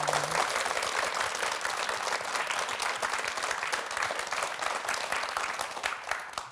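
Studio audience applauding steadily throughout on the KBS morning show 아침마당, a dense, even wash of many hands clapping at a constant level.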